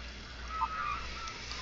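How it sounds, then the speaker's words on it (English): Geese on a pond honk a few times, faint and distant, with a steady wind-like noise underneath. "you hear the geese?"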